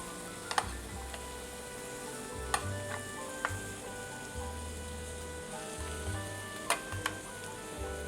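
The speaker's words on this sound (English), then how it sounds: "So as you see, they're the pieces that have been cut. And we'll brown all this off" Goat (capretto) pieces browning in a pan give a constant crackling sizzle with occasional sharp pops and a low hum underneath, close and steady throughout.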